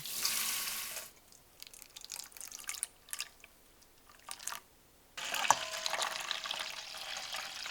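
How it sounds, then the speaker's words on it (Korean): LA galbi beef ribs are rinsed under running tap water. A loud gush of water starts and stops, with quieter drips and handling noises in the pauses before the flow returns strongly. "고기에 붙은 이물질을 1차로 씻어낸다"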